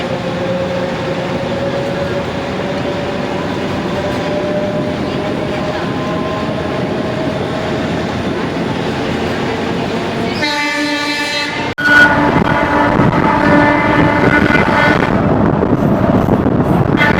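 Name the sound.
DEMU express train running, Vriddhachalam to Salem route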